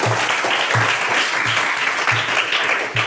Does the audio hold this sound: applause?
yes